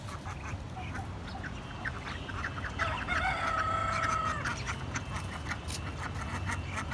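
Chickens and ducks in a free-ranging yard cluck and quack in a busy overlapping chorus at moderate distance, with a rooster-like call rising in the middle, no speech.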